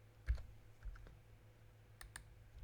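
Computer keyboard and mouse clicks while working in Excel, a few faint scattered taps and clicks against a quiet room hum, with no talking.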